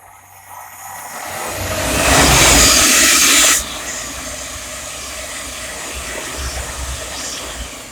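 A Thameslink Class 700 electric train runs through Welham Green station on the East Coast Main Line, bound from Cambridge to Brighton. A rushing roar swells to a loud peak, cuts off sharply, then a steadier rumble continues as it passes.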